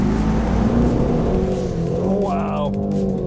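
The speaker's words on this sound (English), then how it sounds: "Yes, it's time to mash the throttle." Aston Martin Vantage V8 engine at full throttle, a loud close roar with rising revs and a whining climb toward the end, while a person talks over it.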